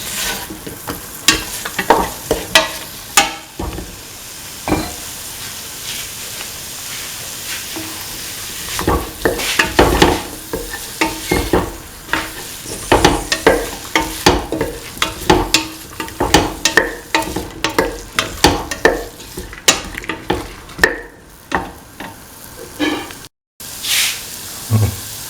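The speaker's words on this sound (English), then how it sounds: "Thoroughly mix in the potato pieces." Potato pieces stirred in a pan while cooking a potato coconut milk rice, producing a steady run of close scraping and clattering strokes over a soft sizzle, with no voices.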